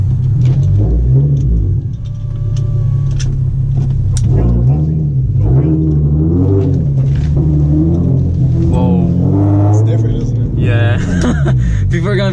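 A Genesis Coupe 3.8 V6 running an E85 tune with full bolt-ons accelerates hard, its engine droning and rising in pitch from inside the cabin while occupants talk and exclaim over it.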